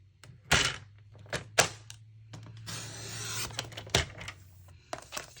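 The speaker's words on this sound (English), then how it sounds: "you're gonna use your trimmer on some of this" A paper trimmer cutting a cardstock banner gives several sharp thunks and clicks, then a longer sliding, rasping cut, all close and fairly loud with no talk.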